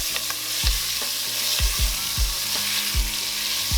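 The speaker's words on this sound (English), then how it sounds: "So we're going to let these onions kind of sear a little bit, soften up a little bit." A whole medium onion sears and sizzles in oil in a pan while short ribs cook, a loud close hiss throughout with repeated thumps and scrapes of stirring at an uneven pace.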